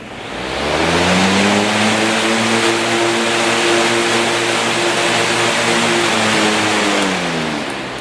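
A 20-inch high velocity fan running on high speed makes a loud, steady rushing roar with a low humming drone, fading in at the start and easing off at the end.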